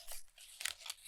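Close, crisp paper-cutting snips and crunches from scissors working detail cuts along a cut-out figure's outline, several quick cuts in a row with no talk.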